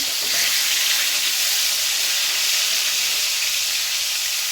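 Rui fish pieces frying in a pan, with potato and flat beans in the dish: a loud, steady sizzle and hiss of hot oil running unbroken throughout, close and alone with no talk.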